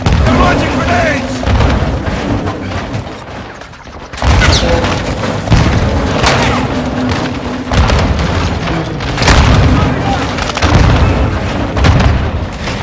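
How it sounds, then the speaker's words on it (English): Repeated heavy grenade blasts in the Call of Duty: Modern Warfare II battlefield, loud booms landing every few seconds amid constant gunfire and combat noise, with shouted voices mixed underneath. "Incoming! Take cover! They're launching grenades!"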